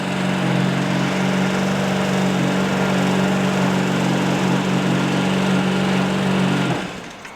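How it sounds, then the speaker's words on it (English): A Vespa LX scooter engine idles steadily with a fitted replacement intake manifold, a loud, even buzzing hum that holds for about seven seconds, then cuts off at the end. "It's all idling good."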